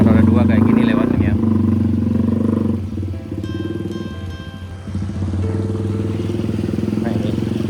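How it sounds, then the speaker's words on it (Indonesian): A motorcycle passes close by on a narrow village road in front of the Nurul Ibadah mosque in Kampung Tanjung, Tarusan. Its loud engine putters and shifts pitch as it goes by. "kalau kendaraan roda 2 kayak gini lewatnya"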